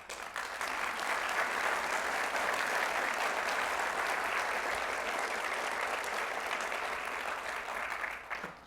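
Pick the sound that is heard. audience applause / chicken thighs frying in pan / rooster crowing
audience applause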